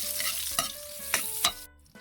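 Onion and garlic sauté in hot oil in a pan, a close, steady sizzle broken by a few scraping stirs before cutting off abruptly.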